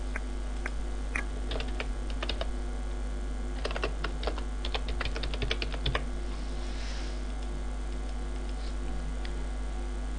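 Computer keyboard typing while entering a drawing number into a CAD title block: irregular bursts of quick, light key clicks over a steady low background hum, with a pause in the middle.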